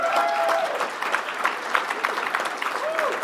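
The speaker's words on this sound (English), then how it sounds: "We all know they're exceptional, so we're going to clap." Audience applause at a CEO awards ceremony, a steady dense wash of clapping filling the room for the whole span, with a few brief voices mixed in.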